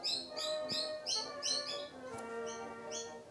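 Birds chirp outdoors in a quick run of bright repeated high tweets, then a few sparser calls, moderately close and steady over a faint background hum.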